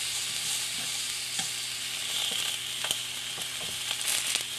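Food sizzling steadily on a Starfrit Rock smokeless grill, a close hissing fry with occasional small crackles and pops throughout and no talking.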